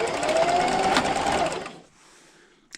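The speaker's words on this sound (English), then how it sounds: "I'm over here at the sewing machine" A sewing machine running a straight stitch at 2.5 length with a quarter-inch seam allowance on a pet bandana, a steady rapid mechanical whir for about a second and a half, then stopping, followed by a faint click.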